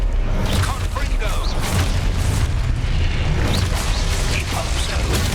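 A Confringo blasting spell explodes in Hogwarts Legacy with a loud, dense, continuous rumble of booms and bursts, while a voice calls out spells over the din.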